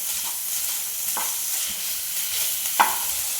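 Chicken filling with tomato sauce cooks in a pan on low flame under a steady soft sizzle, with a few separate spoon scrapes, the last one loudest.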